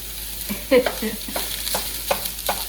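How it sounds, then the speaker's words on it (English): Sausage cooking in a nonstick pan over high heat, giving a soft steady sizzle broken by a few short stirring scrapes and light spatters. No voices are heard. "Okay everybody, so I've got my sausage cooking."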